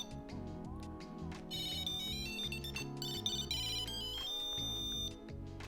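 A loud, shrill electronic ringtone from a Tile Slim Bluetooth tracker at maximum volume chirps a rapid repeating melody, close and piercing, with no talking.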